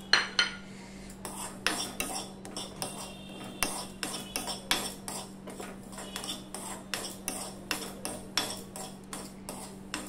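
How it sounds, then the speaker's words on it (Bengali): A metal spoon scrapes and taps steadily against a frying pan, stirring dry-roasting poppy seeds in a quick repeated rhythm over a faint constant hum. "তার সাথে এই পোস্তটুকুও আমি একটু নেড়ে নেব, একটু হালকা করে ভেজে নেব"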